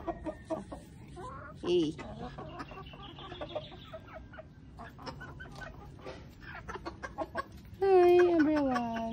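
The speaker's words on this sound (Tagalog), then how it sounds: "Hi chickens. What are your names?" Chickens cluck and murmur in short, scattered bursts at close range, with a louder squawking call near the end and a brief spoken greeting.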